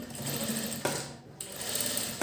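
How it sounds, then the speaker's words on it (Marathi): A sewing machine stitches close along the edge of fabric with a steady, fast mechanical whir, a brief pause midway, then resumes running, nearby and alone. "यावर आपल्याला एकदम कडेने शिलाई मारायची आहे"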